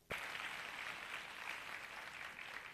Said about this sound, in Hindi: उन सब के लिए एक बार जोरदार तालियां